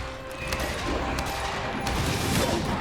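Light bowgun spread ammo fires in Monster Hunter Rise, a dense burst of shotgun-like blasts rolling together into a dull, continuous barrage.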